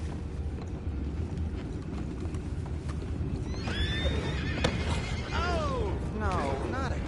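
Horses in Red Dead Redemption whinny and neigh several times in the second half over a constant rumble of clopping hooves and wheels, loud and close.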